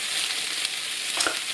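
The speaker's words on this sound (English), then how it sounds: "when it is sizzling, add the onion, celery," Onion, celery, carrot and garlic sizzle and fry in a hot pot for minestrone soup, a steady close crackle with a brief stir near the end.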